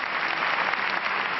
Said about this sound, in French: La leçon est applaudie, mais pas forcément retenue.